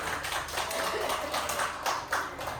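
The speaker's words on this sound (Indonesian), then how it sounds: "Tepuk tangan dong buat Pak Guru Ari." Scattered clapping from a small group applauding a teacher at a school training session, soft, uneven claps spread through the whole moment without speech.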